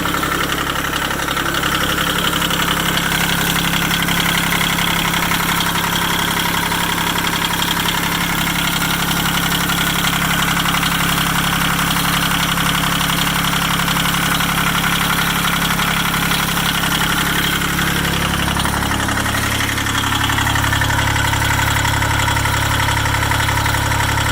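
A diesel engine on a 1984 Cub Cadet 882 garden tractor idles steadily and close, a loud knocking chug that shifts to a slightly different pitch near the end.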